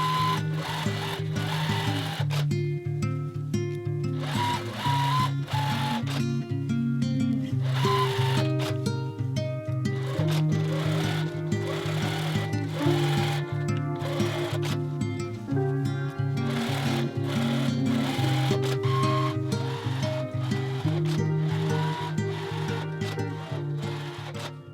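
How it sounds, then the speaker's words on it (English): A sewing machine runs continuously, stitching quilting lines on a fabric book sleeve with a steady mechanical hum and rapid needle rhythm, pausing briefly at times, close and clear. "you're just basically going to sew and keep the guide bar on the line that you've already sewn"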